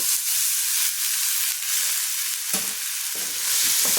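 Soaked sago pearls fry in ghee with a steady, close sizzle and hiss, broken by a few louder scraping stirs near the middle and again toward the end, with no talking.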